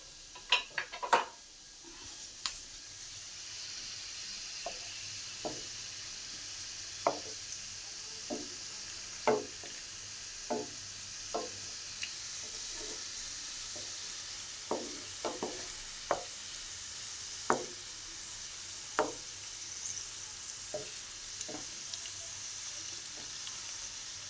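Food frying gently in a pan over low heat, a steady soft sizzle with a string of sharp utensil clicks and scrapes against the pan spaced every second or so, close and moderately quiet.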